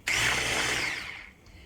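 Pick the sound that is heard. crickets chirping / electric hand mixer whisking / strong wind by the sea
electric hand mixer whisking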